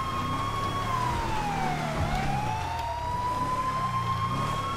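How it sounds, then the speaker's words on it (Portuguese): Police car sirens in GTA V wail loudly and continuously, the pitch sweeping down and back up over a low engine rumble, with no voices. "Tô escutando sirenes também,"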